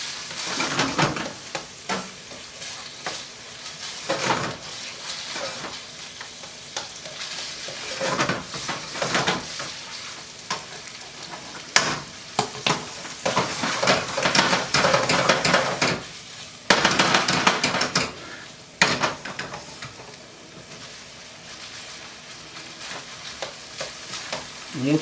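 Pork browning in a pan for fried rice: a constant sizzle broken by repeated loud bursts of stirring and scraping, with utensils clanking against the pan at close range and no speech.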